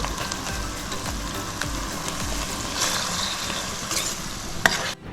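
Cleaned raw prawns fry in a pan for a Godavari prawn and egg curry, a steady close sizzle with rhythmic scraping thumps of stirring and a few sharp clinks, cutting off abruptly at the end.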